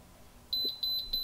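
A rapid series of short, high-pitched electronic beeps at a steady rhythm, fairly close and clear against a quiet background: a PetSafe invisible dog fence transmitter's warning tone, sounding because its setting is turned down too low.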